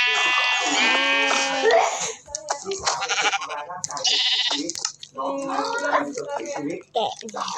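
Sheep bleat in a few wavering, harmonic calls, mixed with a child's speech and other voices nearby, the bleats loud and close in short bursts.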